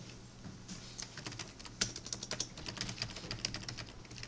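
Typing on a computer keyboard while entering text in CAD software, a quiet, close run of quick, uneven key clicks with brief pauses between bursts, with no voices.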